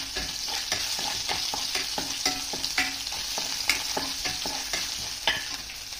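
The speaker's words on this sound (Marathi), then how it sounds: "त्यानंतर ठिचलेला लसूण आपल्याला त्याच्यात टाकायचा आहे." Crushed garlic and cumin seeds frying in hot oil for spiced okra, a continuous crackling sizzle broken by repeated spatula scrapes and taps against the pan, close and fairly loud, no voices.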